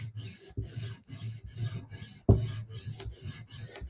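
A blade edge is drawn across a whetstone to clean up a burr, a quiet rhythmic rasp of about eight strokes with soft taps between them and one sharper knock partway through, no talk.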